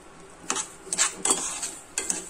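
A spoon scrapes and clinks around a pan of sugar being stirred for caramel semiya payasam, with a few short, close strokes and a soft background hiss.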